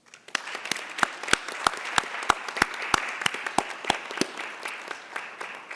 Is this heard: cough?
no